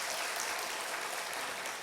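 A church congregation at a Sunday worship service applauds to welcome a missionary home from Indonesia, a dense, steady wash of clapping that fills the whole moment.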